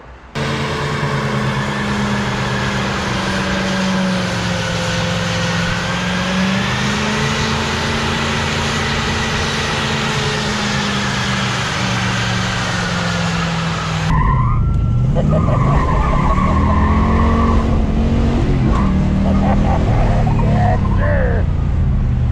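A truck's loud engine roars steadily during a burnout with shrieking tire squeal, the pitch wavering, then shifts abruptly into rougher, revving squeals and engine noise near the end.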